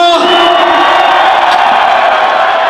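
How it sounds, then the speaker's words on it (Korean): A baseball stadium crowd at a post-game awards ceremony after an LG versus Hanwha game roars and cheers in a dense, sustained wall of yelling, loud and steady with no pause. "다시 한 번 힘찬 박수와 함성을 부탁드립니다"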